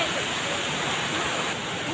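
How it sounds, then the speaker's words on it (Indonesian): Heavy rain pouring down in a dense, steady hiss that stays loud and continuous throughout, with no distinct voices. "Hujannya makin deras teh"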